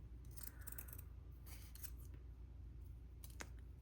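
Scissors cut through layers of cheesecloth, several quiet, close snips and crisp shearing sounds in short clusters against a soft background hum.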